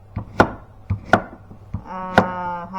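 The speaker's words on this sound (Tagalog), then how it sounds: "Ito, hiwain natin." A kitchen knife slices zucchini on a cutting board with several sharp, evenly spaced chops, close and distinct, followed by a steady tonal hum in the background.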